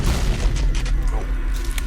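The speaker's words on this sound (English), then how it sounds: "that wall got blasted open, pretty much" A blast in the game Quake blows open a wall, giving a loud, rumbling low boom that rolls on for nearly two seconds and carries faint mechanical clatter.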